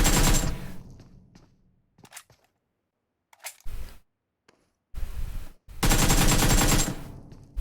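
Gunfire in the PUBG Mobile video game, loud broadband bursts of rapid shots at the start and end with a few scattered shots and quiet gaps between, no talk.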